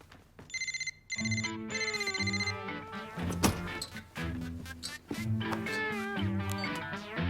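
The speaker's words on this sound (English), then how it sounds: "Nora, your phone's ringing" A telephone ringtone trills in repeated electronic bursts, loud and close, with brief gaps between rings and some voices and background sounds breaking in partway through.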